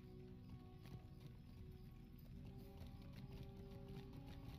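Horse hooves clip-clop in the online game Lord of the Rings Online, a quick, continuous galloping patter of hoofbeats at a steady rhythm, fairly faint.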